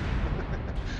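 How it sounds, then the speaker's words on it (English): A heavy cannon hit lands in the mech combat game MechWarrior Online, a dense, sustained low rumble with a booming, noisy impact that fills the whole short stretch and carries no talk. "I got hit by a heavy cannon in the back"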